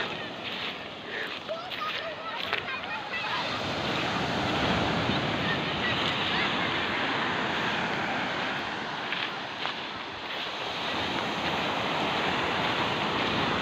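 Sea waves wash in at a free swimming beach where a river meets the sea, a broad steady roar of surf with wind buffeting the microphone, continuous and fairly loud throughout.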